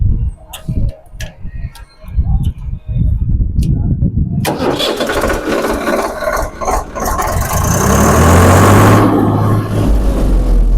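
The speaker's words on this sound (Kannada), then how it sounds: "ಇಂಜಿನ್ ಸ್ಟಾರ್ಟ್ ಮಾಡಿ ನೋಡೋಣ ಹೇಗಿದೆ ಸೌಂಡ್ ಅಂತ." A person talks, then the diesel engine of a new 2025 Swaraj 744 FE 4WD tractor cranks and roars to life, settling into a loud, steady rumble with rising revs near the end.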